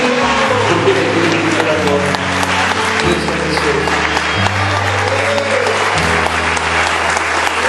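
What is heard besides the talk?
church congregation applauding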